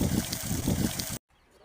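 Water gushes steadily from a two-inch borewell outlet, driven by a Selkon AC/DC pump motor drawing from a 350-foot bore in Erode. The flow is loud and close for about a second, then cuts off abruptly into near silence.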